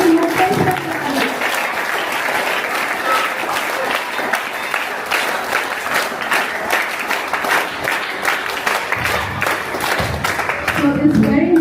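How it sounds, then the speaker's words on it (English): A big round of applause for Sri Mukteshwar Garu at a school event honouring an eco-friendly Ganesh workshop, loud dense clapping from a crowd sustained throughout, with voices murmuring faintly underneath. "Let us all give a big round of applause to Sri Mukteshwar Garu."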